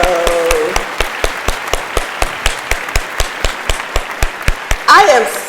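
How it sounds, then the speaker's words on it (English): A single person claps in a steady, evenly spaced rhythm, close and sharp, with a voice talking at the start and end. "Let's just take this moment to give a big round of applause for Burkina"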